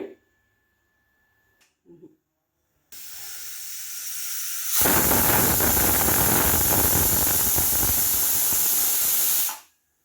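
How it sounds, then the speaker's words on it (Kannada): Pressure cooker whistling with steam in an aloo paratha kitchen: a faint hiss builds, then a loud, steady, sustained steam whistle-hiss blasts for about five seconds before cutting off abruptly. "ಅಷ್ಟರಲ್ಲಿ ನಮ್ಮ ಕುಕ್ಕರ್ ಕೂಡ ಸೀಟಿ ಹೊಡೆಯುತ್ತೆ"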